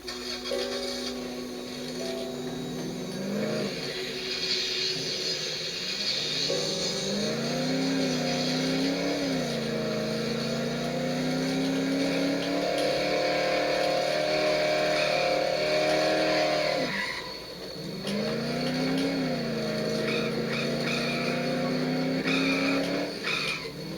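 A car driving in the video game Dead Island, its engine revving up and down continuously with tire squeals, loud and alone throughout.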